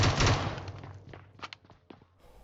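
Footsteps in the shooter game PUBG Mobile, a burst of loud noise at first, then a few soft, irregular thuds of steps nearby, fading out.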